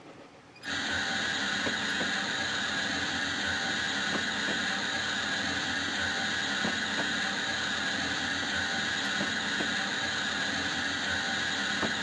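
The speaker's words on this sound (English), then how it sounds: "Partially opening the steam valve." Steam from a partially opened valve on a GWR steam railmotor in Train Simulator's 1950s Riviera route: a loud, steady broadband hiss starts after half a second and holds unbroken, with faint regular ticks beneath it.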